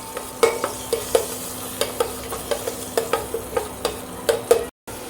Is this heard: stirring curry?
yes